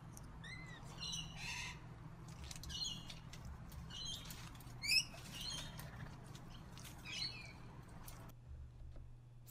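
Parakeets squawk and chirp in short bursts, with several sharp calls over a steady low hum in the background; no talking.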